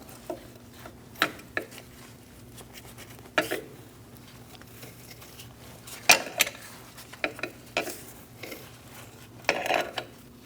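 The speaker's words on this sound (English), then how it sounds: "I'm going to get my wrench on this other one and towards the front." A wrench works on a brake bolt at the rear wheel of a 2012-2020 Chevrolet Sonic during a wheel cylinder job, giving scattered metallic clicks and clinks, faint and irregular over a low background hum, with no talking.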